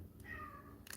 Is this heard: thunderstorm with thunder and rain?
no